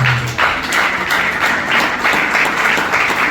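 A church congregation at a revival service claps steadily and loudly for several seconds, a dense, continuous wash of applause with no talking over it.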